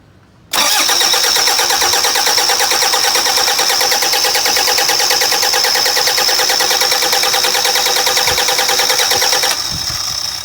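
A Toyota 1KD diesel engine cranks and fires up loudly, settling into a steady, close idle that runs unbroken for about nine seconds before dropping slightly in level.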